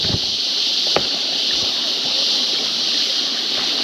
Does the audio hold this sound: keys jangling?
no